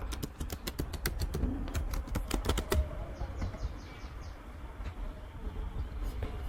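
Password typed on a computer keyboard at a login screen: a quick run of crisp key clicks in the first few seconds, then a quieter stretch with sparse, faint taps.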